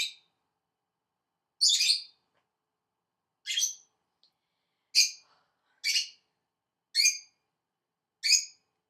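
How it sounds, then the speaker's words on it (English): Birds chirp at night in a run of about eight sharp, high calls spaced a second or so apart, loud and clear against silence. "the birds are going crazy"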